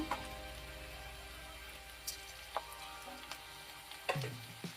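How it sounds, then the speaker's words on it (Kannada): Bitter gourd palya fries quietly in a pan, a low sizzle broken by a few scattered clinks and scrapes of stirring. "ಮಿಕ್ಸ್ ಮಾಡಿಕೊಂಡು ಚೆನ್ನಾಗಿ ಒಂದ್ಸಲ ತಿರುಗಿಸ್ಕೊಳ್ಳಿ"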